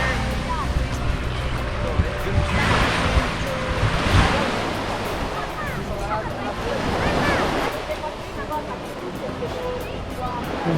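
Ocean surf washes onto the beach at Fort Zachary Taylor Historic State Park in Key West, a steady roar with a few swelling breaks, mixed with wind buffeting the microphone and faint voices nearby.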